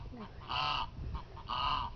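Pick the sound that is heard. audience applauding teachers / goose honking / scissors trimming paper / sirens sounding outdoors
goose honking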